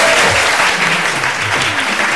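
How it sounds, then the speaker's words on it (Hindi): Studio audience applauding steadily, a dense continuous wash of clapping at close range with no pauses for its full length. "तुम लोग मेरे लिए तालियां नहीं बजा सकते ना?"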